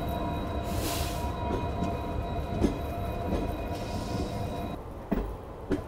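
Mahananda Express passenger train running on tracks at night, with a loud, steady rumble and roar of the moving carriages, rhythmic wheel clatter and occasional sharper knocks, close and continuous, with no voices.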